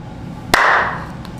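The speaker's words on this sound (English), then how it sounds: "I clap, you do an intro." A single sharp hand clap rings out close and loud, then decays briefly into quiet room noise.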